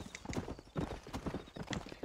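Hooves of a horse in the video game Red Dead Redemption clop in a fast, rhythmic galloping pattern, moderately loud and alone, with no talk over it.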